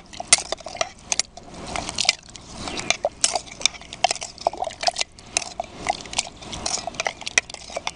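A spoon mixes water into garden soil to make a slurry, with rapid irregular scraping, clinking and wet squishing close up, continuous throughout.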